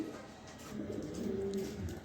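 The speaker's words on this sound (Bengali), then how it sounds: "এখানে এক পেয়ার মিলি কবুতর আছে" Racing pigeons, a pair of mili pigeons, coo softly and low, close by, with a faint murmur of background noise around them.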